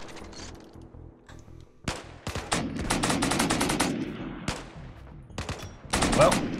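Repeated bursts of loud, crackling RimWorld video game gunfire, with rapid volleys and sharp shots coming in clusters separated by brief lulls, the densest firing toward the middle and end.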